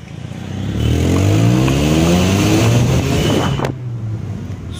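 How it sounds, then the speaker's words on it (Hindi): A car engine revs hard, rising through several sweeping climbs in pitch, then drops back toward idle, loud and close with no talking over it. "आप लोग आवाज़ सुनिए पहले गाड़ी का"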